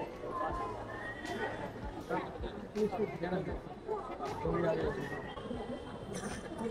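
A horse neighs amid the crowd at a Mumbai street art festival, with people talking close by and busy chatter throughout, the whinny rising briefly above the voices.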